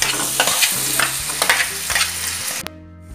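Steady sizzling from a frying pan as boiled potatoes are stirred into spices, with scraping strokes repeating through it, then the sound cuts off abruptly near the end.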